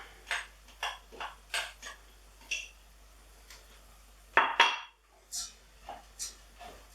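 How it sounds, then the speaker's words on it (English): Drained pearl barley for risotto being tipped and scraped into a pan, with a series of light metallic clinks and taps from a spoon against the pan at an irregular pace, fairly quiet and close. "So we're going to add in our Pearl Barley to here, which we've drained"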